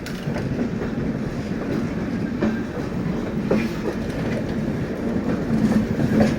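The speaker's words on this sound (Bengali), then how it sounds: "পাশ থেকে চলে যাওয়া ট্রেনটা" The Shalimar Express from Howrah to Chennai rolls past alongside, heard from aboard another train leaving Howrah: a loud, steady rumble with rhythmic wheel clatter and faint squeal running the whole time, with no voices.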